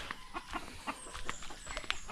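Mahogany hens clucking on a small farm, a flock of about thirty birds giving short, repeated clucks at a moderate distance over quiet background noise.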